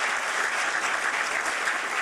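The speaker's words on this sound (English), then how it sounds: "So if y'all could help me give John a round of applause." A crowd applauds steadily at a high school hall of fame ceremony, a dense, even wash of many hands clapping throughout with no break.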